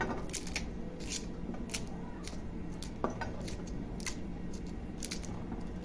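Sweet corn kernels scraped off the cob in a home kitchen, a rapid series of sharp crisp snips and crackles, close and steady.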